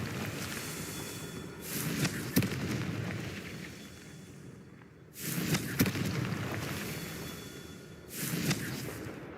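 Confringo fire spell blasts from the video game Hogwarts Legacy: three loud, roaring bursts spaced a few seconds apart over a constant rumbling game backdrop.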